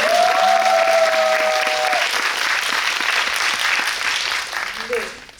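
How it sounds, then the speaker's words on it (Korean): A cinema audience at a horror film guest visit in a CGV theater hall breaks into loud, dense applause that holds steady, then tapers off near the end. A voice is heard briefly partway through. "여러분도 그러셨다면 박수 한번 쳐주세요"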